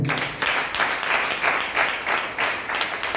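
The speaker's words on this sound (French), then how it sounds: "Acclame pour le Seigneur" A church congregation bursts into applause, a few dense rhythmic swells of clapping across about three seconds, fairly close and steady with no talk over it.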